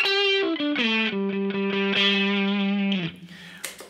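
An electric guitar runs through a compressor and overdrive pedal, playing a short descending run of distorted, sustained notes with a rich harmonic buzz, then fading into a quieter tail with a small pick noise.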